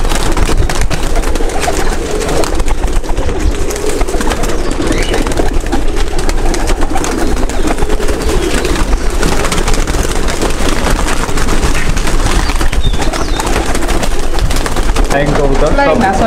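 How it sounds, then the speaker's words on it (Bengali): Locket pigeons coo softly in a loft, low throaty calls repeating near and steady amid a busy background, with a faint engine hum far off. "অসাধারণ একটি লকেট কবুতর দেখেন"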